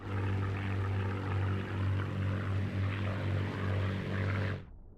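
A WWII fighter plane's propeller engine roars steadily at full throttle in the Battle of Britain flight game Scramble, a loud continuous drone that cuts off abruptly near the end.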